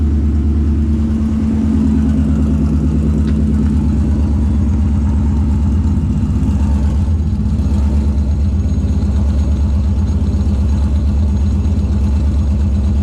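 A car with a bent Ford 9-inch axle pulls away slowly in first gear, its engine a loud, close, steady low rumble with little change in pitch.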